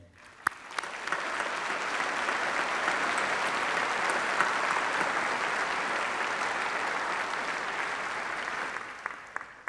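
A graduation ceremony audience applauds the university's staff, a dense, steady wash of clapping from a large crowd that swells in quickly, holds loud for several seconds and tapers at the end.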